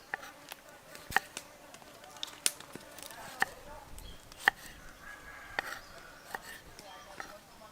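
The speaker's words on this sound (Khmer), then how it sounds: "បន្តមកទៀតយើងចាប់ផ្ដើមហាន់ប៉េងប៉ោះ" A knife chops tomatoes on a board for soup in a village kitchen, sharp irregular taps fairly close and moderately quiet, over a faint background hum.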